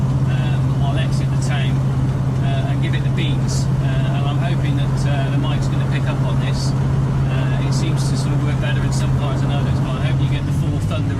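A 7.2 litre V8 in a 1974 Jensen Interceptor Mk 3 hums steadily as the car cruises, a constant low engine drone with road noise throughout, and a voice speaks over it.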